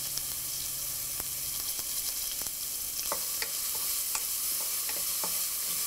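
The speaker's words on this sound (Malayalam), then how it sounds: "ഇഞ്ചി, പച്ചമുളക്, 2 തണ്ട് കറിവേപ്പില എന്നിവയിട്ട് നന്നായിട്ട് വഴറ്റുക" Ginger, green chillies and curry leaves sautéing in a pan for mutton kurma, with a constant bright sizzle and sparse sharp clicks of a spoon stirring against the pan, nearby.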